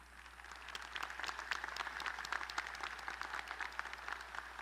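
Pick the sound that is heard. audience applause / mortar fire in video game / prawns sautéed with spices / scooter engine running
audience applause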